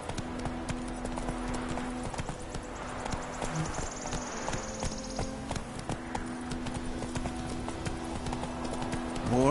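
A horse ridden at a walking pace in The Witcher 3 clops steadily in the foreground, with background ambience and faint insect-like chirps.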